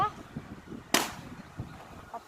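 A single rubber balloon pops with a sharp, loud bang partway through, amid quiet background chatter and a voice.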